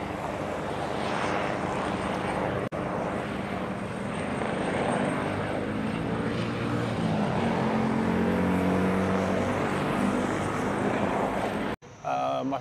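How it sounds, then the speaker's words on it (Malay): A helicopter passes over a street in Songkhla, heard as a steady, loud rotor and engine roar with a throbbing beat that swells toward the middle before cutting off abruptly. "Ada helikopter lalu."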